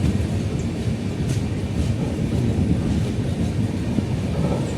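A train rumbles steadily along the rails, a loud continuous low roar with faint rhythmic clatter and no voices.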